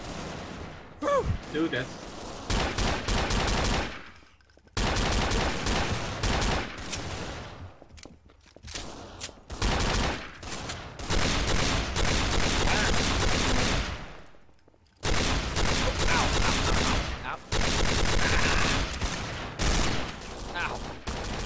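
Rapid bursts of gunfire in the Gun Game mode of Garry's Mod, loud repeated volleys with brief gaps between them, with voices talking over the shooting.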